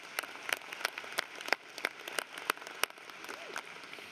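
An audience claps at a high school graduation ceremony, a scattered patter of individual claps heard fairly faint and at a distance, forming a light, uneven smattering of applause.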